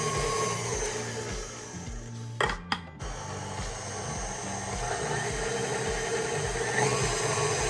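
An electric mixer beats powdered sugar for macarons, its motor whirring in a pulsing, repetitive drone that briefly cuts out and then keeps running steadily.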